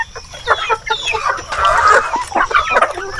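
Farm chickens cluck and call in short bursts while pecking at papaya flowers, close and fairly loud, with no talking.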